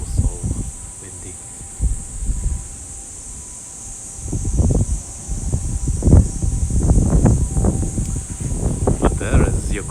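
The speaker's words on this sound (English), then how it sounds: "Oops, so windy." Wind gusts across a small balcony garden in Tokyo, buffeting the microphone in irregular low rumbling bursts that grow stronger toward the end, over a steady high-pitched hiss.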